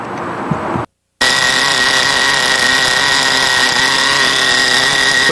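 A 1993 R/C race car engine with its air screw backed out drones on loudly and steadily at high pitch, a continuous near whine with a brief cutout, running alone without talk.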